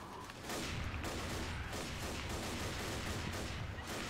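Rapid rifle gunfire in the video game Left 4 Dead, a dense burst of repeated shots fired in quick succession, loud and close, continuing almost without pause.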